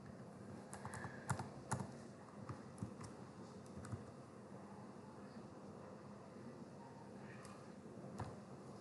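Typing on a computer keyboard during an HTML form lesson, with scattered, fairly quiet key clicks in irregular bursts over a faint background hum.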